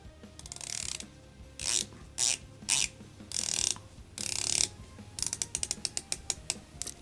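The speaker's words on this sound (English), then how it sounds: "Let's listen to the bezel action on here." Sapphire bezel on a Richard LeGrand Oceanfarer automatic 200m dive watch being rotated, giving quick bursts of crisp ratcheting clicks in several separate turns, then a run of distinct single clicks, close up with no talking.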